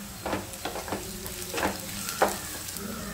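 Chicken pieces and onion sizzle steadily in a pan for Berhampur-style chicken pepper fry, a continuous close crackle with repeated stirring scrapes and clatters throughout.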